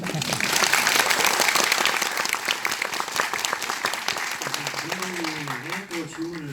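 At a Korean film screening Q&A for The Witch, the audience breaks into warm applause that is loud at first and gradually tapers, with a voice starting to speak as it fades.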